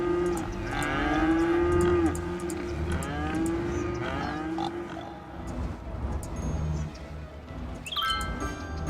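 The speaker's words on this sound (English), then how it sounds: "You actually hear the cows when you get closer." Cows in the Cities: Skylines city-building game moo several times in long, drawn-out calls. They sit over a steady layer of traffic and ambient game noise, with a few short chimes near the end.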